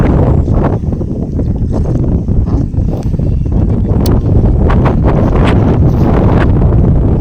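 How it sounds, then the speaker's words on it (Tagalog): Strong, cold wind on Gulugod buffeting the microphone in a continuous loud roar with gusty rustling, no voices. "Lakas ng hangin dito guys sa Gulugod."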